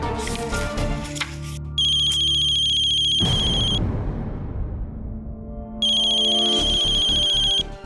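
A telephone rings with a melodic electronic ringtone for an outgoing call, two loud bursts separated by a short pause, with no talking.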